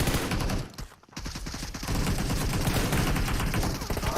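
Rapid bursts of automatic rifle fire in the mobile battle royale shooter PUBG Mobile, loud and close, with a brief lull before a steady stream of shots resumes.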